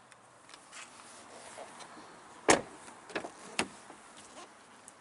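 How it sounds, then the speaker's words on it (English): Electric windows on a Mercedes B180 SE operate with a soft motor whir, followed by several sharp clunks and thumps as the glass stops, near and moderately loud. "Electric windows, front and rear"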